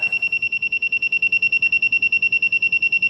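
A model aircraft radio transmitter emits a high electronic beep that pulses rapidly and steadily without a break, loud and close.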